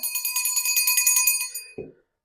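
A bright bell rings in a rapid, shimmering trill for about a second and a half, then stops, followed by a short muffled knock.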